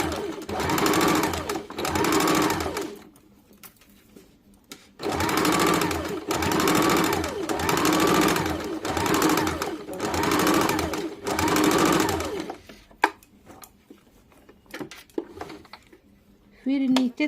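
An electric sewing machine stitches a sleeve seam on a collared kameez in loud, steady bursts, two short runs, a pause, then a longer run of about seven seconds, followed by quiet handling clicks.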